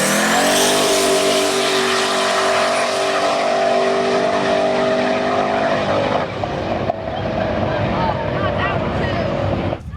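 Race cars in a drag race roar past close and loud, a sustained high engine howl with tonal harmonics that drops away as the cars recede and leave a rough, noisy tail.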